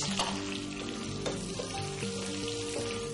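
Steady sizzling of a tempering of urad dal, curry leaves and dried red chillies frying in hot oil, continuous and close, with a faint crackle throughout and no voices.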